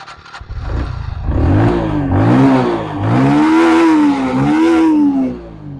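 A motorcycle engine fires up with a push-button starter, catching after a short cranking clatter, then revs repeatedly in rising and falling surges, loud and close.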